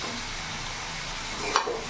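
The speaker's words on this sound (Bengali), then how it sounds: "এখানে ভেজে রাখা আলুগুলো আমি দিয়ে দেবো" Pre-fried potatoes going into sizzling spice oil in a pan, a continuous close hiss of frying with a brief stir and scrape near the end.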